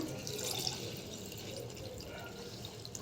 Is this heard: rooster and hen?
no